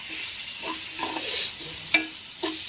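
Big onions fry in a pan with a steady, fairly soft sizzle, broken by a couple of sharp clinks and scrapes of stirring, close up and without talk.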